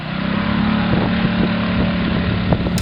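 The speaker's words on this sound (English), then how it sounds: "This is the Honda 5 horsepower outboard." A Honda 5 horsepower outboard motor with a square cowling runs steadily on a boat, giving a close, continuous buzzing drone with faint wind noise and no speech.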